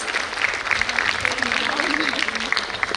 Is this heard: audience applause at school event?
yes